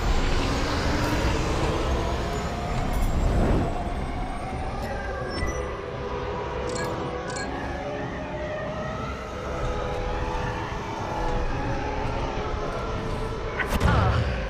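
Starfighter engines at full throttle roaring out of a hangar in Star Wars Squadrons, a loud sustained rumbling whoosh with shifting tones, swelling briefly near the end, with voices talking over it.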